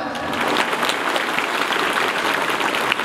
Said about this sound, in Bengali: জি, হাততালি হবে না?